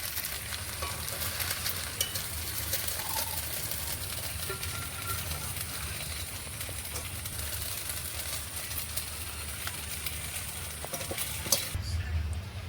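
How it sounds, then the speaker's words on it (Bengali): Potato and vermicelli with cashews, raisins and curry leaves fry in a pan, giving a steady, soft crackling sizzle that continues almost unbroken, with faint stirring noises and a brief change near the end. "সব কিছু আরও ভালোভাবে একটু ভেজে নেব।"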